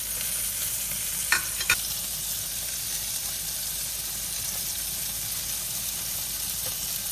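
Cod fries in butter in a pan with a steady, soft sizzle and hiss. A couple of light utensil taps come early, and no one speaks.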